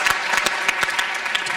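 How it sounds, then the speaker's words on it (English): Audience applause closing a panel discussion on U.S. foreign affairs, a dense, even patter of many hands clapping, steady and fairly close, with no break. "Give yourselves a round of applause for coming and participating."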